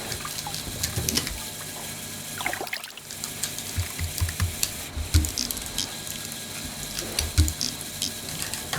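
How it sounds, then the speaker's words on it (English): Water and Orbeez splashing and trickling out with small wet squishes and clatters, steady low background noise throughout. "a lot of water and Orbeez were spilled out"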